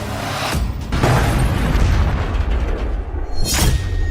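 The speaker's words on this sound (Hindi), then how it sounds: "रूस की मिसाइलें कहर बनकर टूट रही हैं।" Heavy booms from Russian missile strikes on Ukraine roll through a sustained low rumble, with two sharper blasts near the start and one more toward the end, loud and continuous with no talk.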